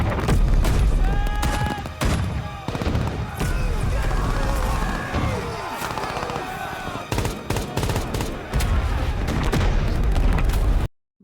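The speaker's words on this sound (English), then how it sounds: "oh, shooting the prisoners." Gunfire in a TV war drama as prisoners are shot: sharp, loud bursts of shots and impacts stand out over a busy soundtrack with voices and music, scattered across the scene.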